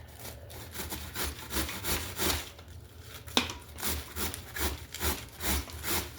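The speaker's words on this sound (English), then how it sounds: "I'm just going to grate my cabbage." Cabbage being shredded on a hand grater over a pan for coleslaw, heard as steady rhythmic scraping strokes at close range, about two per second, with no voices.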